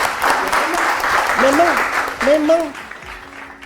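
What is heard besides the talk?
audience applause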